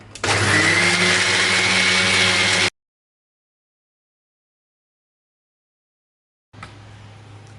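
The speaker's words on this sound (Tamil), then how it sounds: "இப்போ இதை நல்லா நைஸாக அரைச்சிடலாம்." A kitchen blender grinds dragon fruit (pitaya) with milk for juice, a loud steady motor whir that cuts off abruptly, followed by silence and then a quieter restart of running hum.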